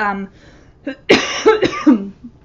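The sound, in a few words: coughing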